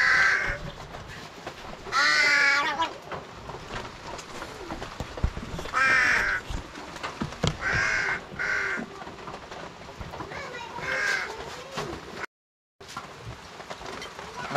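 A pet crow gives repeated harsh caws, loud and near, spaced a few seconds apart, while a person talks between and over the calls.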